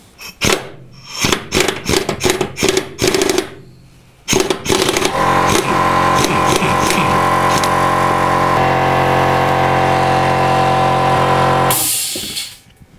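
Impact wrench on a rusted screw on a Hyundai Accent during clutch work, short rattling bursts of hammering followed by a long continuous loud whirring run that stops abruptly, then a brief hiss.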